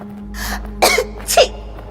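A woman coughs from dust, a faint breathy exhale followed by two sharp, close coughs over a low steady hum.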